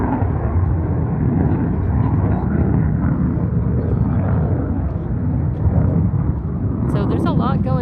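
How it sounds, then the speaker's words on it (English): A jet aircraft's afterburner roars over San Diego Harbor as a continuous, distant, broad low rumble, with a voice talking over it. "You could just hear the afterburner."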